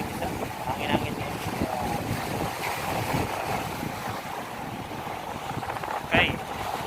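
Wind gusting across the Abu Dhabi Mina breakwater fishing spot, a steady blustery rush near the microphone with faint water and boat noise beneath.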